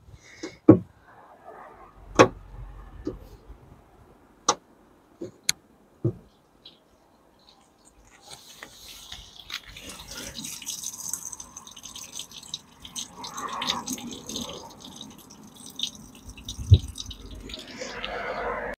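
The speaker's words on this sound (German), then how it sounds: "Wir lassen jetzt erstmal das Wasser ab." Water drains out of a flooded trunk on an imported BMW M4 F82: first a few sharp, separate drips and taps, then a quieter, continuous trickle and gurgle of water running out.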